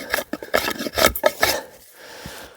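A wooden shovel handle being shaped with a rasp, giving a run of close, scraping strokes in an uneven rhythm that stop and leave a quiet tail, with no talking.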